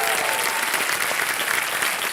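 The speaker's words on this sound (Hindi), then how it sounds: "तालियां बज जाएं इनके लिए।" Studio audience on the Kaun Banega Crorepati TV quiz show breaks into dense, sustained applause, loud and even throughout the short stretch, with no voices over it.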